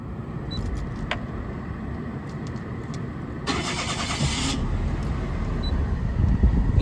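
A Daihatsu Mira Gino's three-cylinder engine cranks for about a second with a loud whirr, then catches and settles into a steady, close idle.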